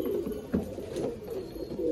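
Pigeons coo softly in a loft, a low muffled rolling murmur that continues steadily under a hazy room noise.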